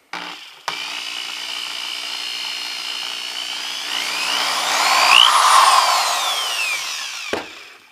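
A DeWALT 3/8-inch corded variable speed reversible drill whirs alone at a steady pitch, then the motor revs higher and eases back as the trigger is squeezed and released, starting and stopping with clicks, close and loud with no talking.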